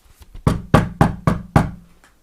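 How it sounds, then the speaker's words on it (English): Knuckles tap on a bedroom door: after two soft touches come five crisp, evenly spaced knocks, close and clear, with nothing else heard. "tapped on the door"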